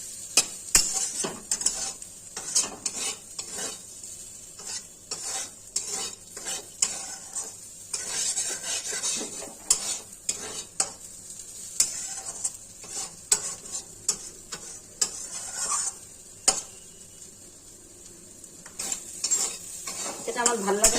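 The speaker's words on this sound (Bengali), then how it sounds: "এখন এটা দিয়ে আমি নেড়ে চেড়ে ভাজা করতেছি।" Rice being stir-fried with turmeric and salt in a karahi, with a continuous sizzle under frequent metallic scrapes and clinks of a spatula against the pan, loud and close with no talking.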